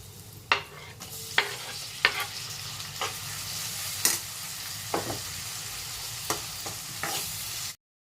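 Tomato goes into a pan with ginger-garlic paste for a pea and potato curry, frying with a soft steady sizzle while a spatula knocks and scrapes against the pan in a dozen sharp, irregular strokes, close and fairly quiet.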